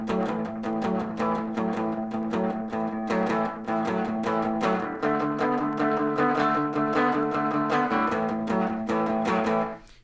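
An electric guitar plays a rockabilly 5/6 boogie lick, a steady driving stream of chugging two-note figures, close and slightly overdriven, with no talking over it.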